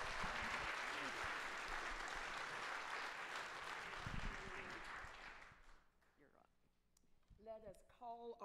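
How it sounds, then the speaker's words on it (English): A church congregation gives a loud, dense round of applause for about six seconds before it dies away, and then a voice speaks. "give my amazing dad a round of applause"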